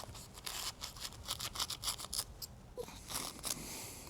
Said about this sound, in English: Cutting that rope, good to go.